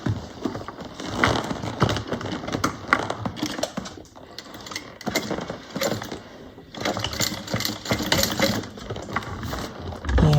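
A sewing machine top stitching a fabric bag, running in close, loud, rapid bursts with a steady mechanical chatter and brief pauses between runs.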